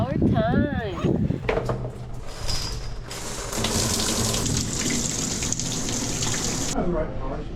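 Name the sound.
shower running water at a campsite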